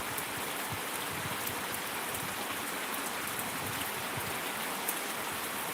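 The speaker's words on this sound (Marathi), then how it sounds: "मुसळधार स्वरूपाचा असा पाऊस सध्या पंढरपूरमध्ये चालू आहे" Steady, dense heavy rainfall in Pandharpur, Solapur district, India, hissing continuously across the whole stretch, with scattered drops pattering on surfaces; loud and even, no voices.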